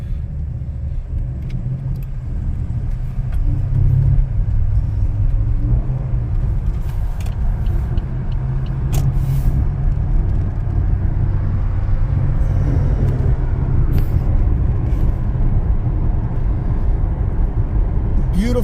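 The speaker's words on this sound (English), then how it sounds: "I love how this car idles." A Pontiac Grand Prix GXP sits idling outdoors on a mild day, its engine a steady low rumble close by, smooth and even for the whole stretch, with a few faint clicks and light sounds over it.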